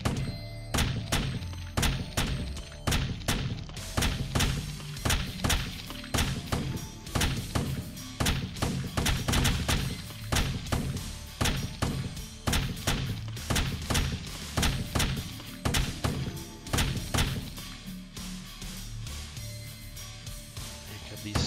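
Guns firing in the video game Ballistic Attack: a steady stream of punchy, thudding shots repeating every fraction of a second for the whole stretch, loud and busy, with occasional sharper impacts layered over a low rumbling game soundtrack.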